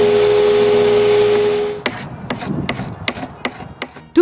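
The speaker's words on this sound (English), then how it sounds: "So I continued stripping the paint and sanding the rest." Paint being stripped and sanded off an old wooden chair during restoration; a continuous machine-like whir gives way to a series of sharp, irregular rasping scrapes and knocks, close and loud.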